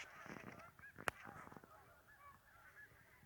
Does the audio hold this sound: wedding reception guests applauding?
no